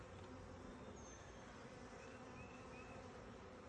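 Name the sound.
honey bees buzzing around an opened hive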